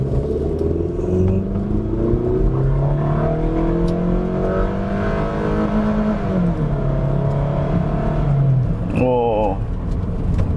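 A 2005 Toyota Camry accelerating from a stop, its engine note rising steadily through the gear and shifting once, heard from inside the cabin as a loud continuous drone with someone talking over it.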